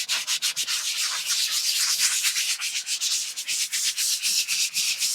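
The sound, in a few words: sanding block sanding dried drywall mud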